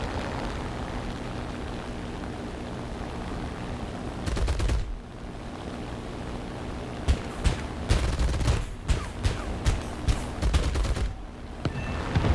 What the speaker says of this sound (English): I'm gonna go in for a strafing run, because those flat guns are starting to really annoy me